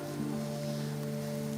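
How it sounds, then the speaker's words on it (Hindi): Steady rain falls as ambience in a Hindi audio drama, a continuous wash of patter under a low tonal hum, with no voices. "लेकिन बारिश का शोर तेज हो गया था।"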